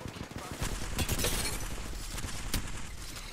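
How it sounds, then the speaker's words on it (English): Automatic gunfire from an Apex Legends fight, with dense rapid shots packed closely over about three seconds and sharp cracks standing out amid the clatter. "Yo, start shooting him."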